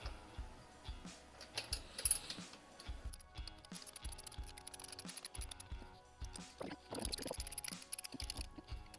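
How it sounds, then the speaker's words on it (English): Ratchet wrench tightening bolts while a Tesup Magnum 5 wind turbine is assembled, giving nearby bursts of rapid clicking with irregular pauses and occasional knocks. "Best to use an Allen key for tightening these, and a ratchet wrench."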